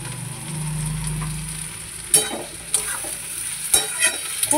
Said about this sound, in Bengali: এই পেঁয়াজ ভাজাতে একটু চিনি দিয়ে দিচ্ছি